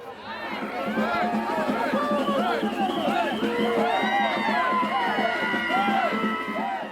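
Dense, loud carnival crowd in Brazil, with many overlapping voices shouting, chattering and whooping in a continuous roar heard from within the throng.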